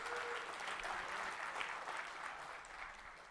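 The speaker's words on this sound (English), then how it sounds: "Let's give a round of applause to Joomshaper." Audience applause at a Joomla conference, a steady wash of many hands clapping that holds for a few seconds and then thins slightly toward the end, with no voices over it.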